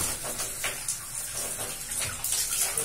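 Warm water runs steadily from a tap into a bathtub, a continuous close hiss and splash with slight surges and no talking.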